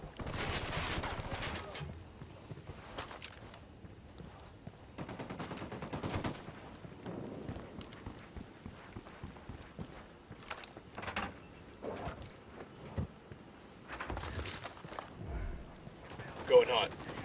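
Gunfire in Ghost Recon Wildlands comes as scattered bursts of shots and short volleys, some loud and close and others muffled, spread unevenly over a quiet background while players talk.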